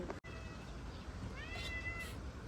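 A cat gives a faint, drawn-out rising meow near the end of the clip, heard alone over a soft background hiss after a brief click at the start.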